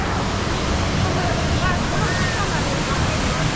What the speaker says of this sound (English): This is the world's tallest indoor waterfall.